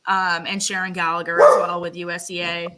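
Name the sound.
dogs barking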